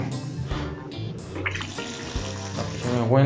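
Tap water runs into a sink in a hostel room, a steady splashing stream with a brief voice in the background.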